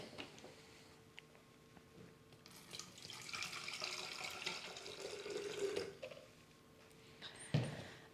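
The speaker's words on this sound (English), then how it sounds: "let me add some water." Water poured from a vessel into a plant's pot for bottom watering, a soft rising trickle and splash that swells midway, then a brief clunk near the end, fairly quiet and close.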